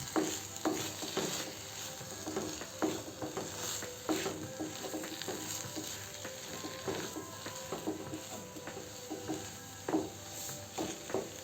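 A spoon scrapes and stirs potato filling mixed with sambar masala in a pan, with repeated rhythmic clicks and scrapes over a faint steady sizzle, close and without any talking.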